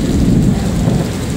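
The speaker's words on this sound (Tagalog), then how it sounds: "Hindi pa rin tumitila yung ulan." Heavy rain pours down with deep rumbling thunder during a typhoon, a dense, loud, steady roar with no voices.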